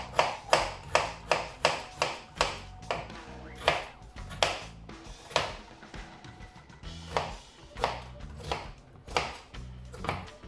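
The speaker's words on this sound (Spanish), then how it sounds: "y la cortamos como si estuviésemos cortando la cebolla" Knife chopping a raw peeled potato on a cutting board, a steady run of crisp knocks in quick bursts with short pauses between rows of cuts, close and clear.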